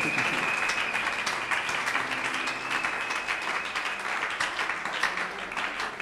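Congregation applauding during a Sunday church service, sustained dense clapping throughout with a crowd murmur beneath.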